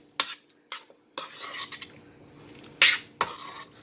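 Ground meat being stirred with a whole can of tomato sauce in a pot, scattered scrapes and knocks of a spoon against the pot with soft wet sloshing between them, close and intermittent.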